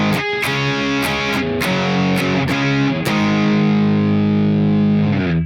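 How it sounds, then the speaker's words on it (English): Distorted electric guitar playing a power chord rhythm, a run of sharp chugged strikes that then ring out in a loud, sustained, saturated chord, with no talk. "And then the distorted guitars will come in."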